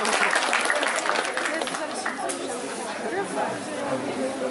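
An audience at a concert at Empik Warszawa applauds, with dense clapping mixed with crowd chatter and cheering voices, continuous and fading slightly over several seconds.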